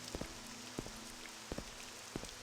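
Steady rain pours down in Morrowind, a dense continuous hiss with periodic soft footstep thumps as a character travels through the wet landscape, no voices.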